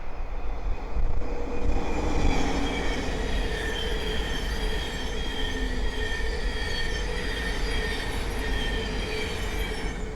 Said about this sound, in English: the next train to pass by is a Thameslink 700 from Cambridge to Brighton